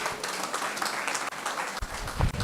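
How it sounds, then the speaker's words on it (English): An audience applauds at a memorial lecture, dense, continuous clapping filling the room at moderate loudness for the whole stretch, with some low rumble near the end. "Keep clapping, keep clapping"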